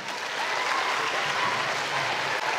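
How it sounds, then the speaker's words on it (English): A crowd at a parent training session breaks into applause, a continuous, even patter of many hands clapping for a couple of seconds with no voices over it. "Give me a big round of applause."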